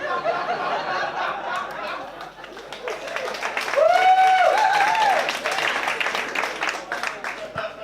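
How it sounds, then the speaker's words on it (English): Audience clapping at a stand-up comedy show, a burst of applause mixed with chuckles and scattered laughter that swells midway, with the comedian's voice talking over it. "That is every woman in the room clapping."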